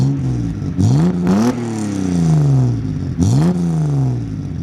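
Toyota MK2 Supra engine revving and accelerating from inside the car, rising pitch sweeps broken by brief gear changes, loud and close with no talk.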